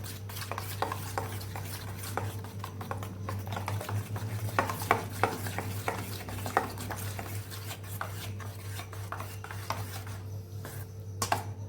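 Spoon stirring turmeric, ginger and salt into yogurt for a Kathiawadi-style smoky dahi oro, with soft scraping and clinking against the bowl in a steady run of close, irregular strokes over a low constant hum.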